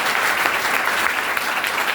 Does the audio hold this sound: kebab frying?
no